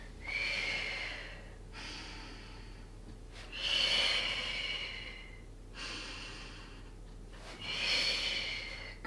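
Slow, audible breaths during a pilates class, long drawn inhales and exhales in a steady cycle of about four, fairly quiet and close, with no talking over them.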